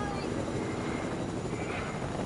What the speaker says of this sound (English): I have here a helicopter.